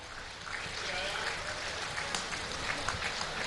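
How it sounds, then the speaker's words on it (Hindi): Crowd applause at a large public ceremony in Chitrakoot as a woman farmer receives a Kisan Credit Card, a dense continuous roar of many hands clapping at a steady level. "आपकी तालियों की शुभकामनाएं भी इन्हें मिलें।"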